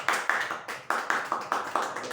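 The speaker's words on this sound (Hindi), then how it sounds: "तालियां तो बजा दो यार।" Hands clap in a regular, fairly close rhythm, about eight distinct bursts at an even pace, each sharp at the start and fading quickly, with no voices.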